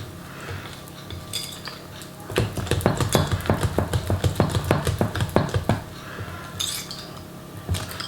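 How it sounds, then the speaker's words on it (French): A utensil mixes chestnut cream muffin batter in a bowl with a quick run of sharp, rhythmic clinks and scrapes against the bowl. The clinks are clearest in the middle, and softer stirring comes before and after. "Maintenant, il suffit de bien mélanger pour que notre pâte soit bien homogène."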